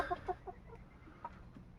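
Soft, short clucks from small Polish bantam hens, a few scattered calls close by over a low farmyard hum, with no talking.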